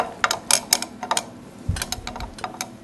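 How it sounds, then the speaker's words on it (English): A chuck is fitted onto a wood lathe, producing a run of close metallic clicks and ratcheting taps, with a few low thumps in the middle. "Now the next thing that I need to do is put on a chuck."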